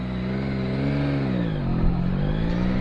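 A Yamaha MT09 motorcycle's exhaust while riding along, a loud, steady engine drone close by that rises and dips in pitch as the throttle changes, with no talking.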